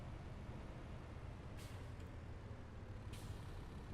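A logging truck in Farming Simulator 22 releases two sharp hissing bursts from its air brakes over a steady low engine rumble.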